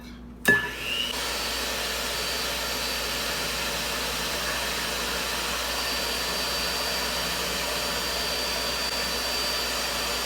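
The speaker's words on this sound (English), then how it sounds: "We're going to blend this together till it's nice and smooth." A blender whirs steadily as it blends a banana pudding mixture of vanilla instant pudding and milk, starting with a brief clunk and then holding a constant, loud, noisy motor drone for about ten seconds with no talking.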